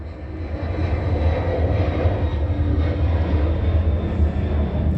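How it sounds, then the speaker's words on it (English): A fixed-wing airplane passes overhead at dawn, its steady low engine roar rumbling continuously and loudly throughout with no speech. "This is a third plane."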